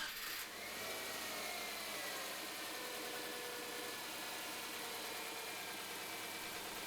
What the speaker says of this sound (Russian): Теперь запускаем двигатель.